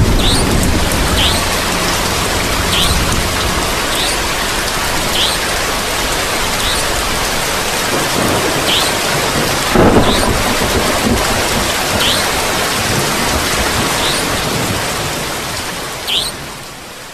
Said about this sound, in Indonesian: Di luar hujan masih lebat, sesekali terdengar suara gemuruh halilintar.